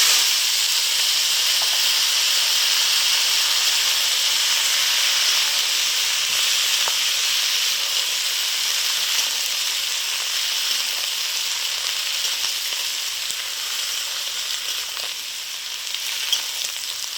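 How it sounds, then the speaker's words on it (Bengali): Bottle gourd sizzles in hot oil after a radhuni seed tempering, a continuous loud frying hiss that persists for many seconds with occasional faint stirring clicks and no talk. "রাঁধুনি ফোড়ন দিলাম, লাউটা দিয়ে"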